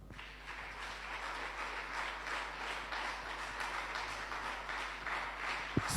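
A church congregation applauds in a steady, sustained wash of clapping that holds at an even level throughout, with no speech over it.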